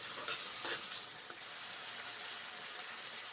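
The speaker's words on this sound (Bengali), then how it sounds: "হলুদ গুঁড়ো দিয়েছি কষে নিচ্ছি" Pointed gourd sautéing in a pan with turmeric and a little water, a quiet, steady sizzle with a few soft stirring scrapes near the start, and no voices.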